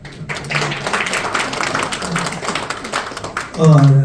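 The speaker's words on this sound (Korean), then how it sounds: "알브레이트 교수님한테 다시 한번 큰 박수." Audience applause for a visiting professor at a Hunminjeongeum lecture in a Seoul press center hall, a dense, steady patter of many hands filling the room for several seconds before a voice cuts in at the end.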